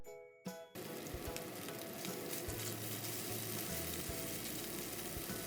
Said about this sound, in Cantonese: 放少少油喺個鑊度，放雞肉，用中大火煎大概20秒。